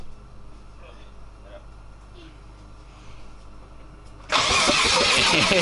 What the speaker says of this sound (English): and now the motor cranks